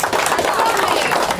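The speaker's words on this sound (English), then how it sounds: "Big round of applause for William" Audience applause for a young competitor at a UK national championship shootout round, a dense, steady wash of clapping and crowd noise filling the whole brief moment.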